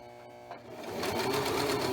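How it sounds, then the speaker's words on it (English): A sewing machine starts up and runs a reverse stitch on tote bag fabric, rising from a quiet start into a rapid, steady mechanical chatter, heard up close. "Start with the reverse stitch."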